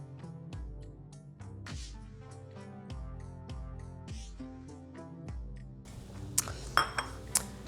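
Dishes, pans and cutlery clink and clatter during kitchen cleanup. A few sharp knocks near the end stand out over steady background music.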